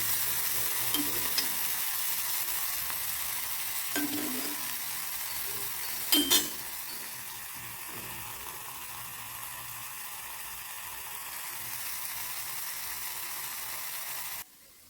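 Prawns fry in a pan with turmeric, salt and chili powder, giving a steady close sizzle with a few brief stirring scrapes partway through and no talking.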